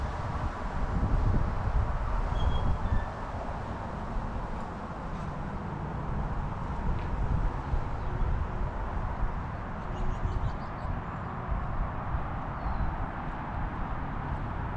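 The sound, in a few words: wind blowing through a courtyard and trees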